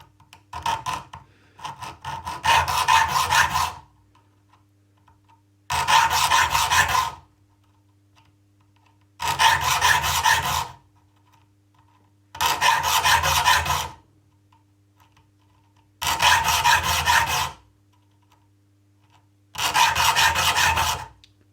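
A file sharpens the teeth of a crosscut handsaw in six separate bursts of rasping strokes, each burst about a second long, with pauses between them and a low hum underneath. It sounds close and clear, and no one speaks.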